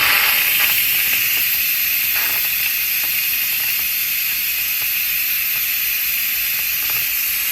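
A pressure cooker vents steam in a loud, continuous hiss that stays steady throughout, with faint clicks and ticks underneath.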